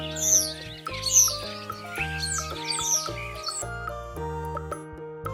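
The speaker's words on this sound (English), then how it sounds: "Starling. Starling." Starling calls come as repeated squawking, chattering bursts over a steady tonal backing of music, loud and close throughout.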